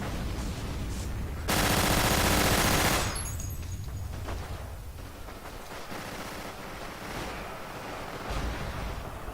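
A Suomi submachine gun in Forgotten Hope 2 firing one loud, sustained automatic burst of about a second and a half, followed by quieter distant gunfire and battlefield noise.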